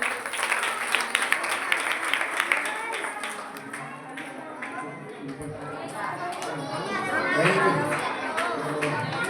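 Applause from the audience at a Shrimad Bhagavat Katha gathering in Sector 17, Panchkula, welcoming honoured guests, moderately loud scattered clapping mixed with crowd chatter and someone speaking over it.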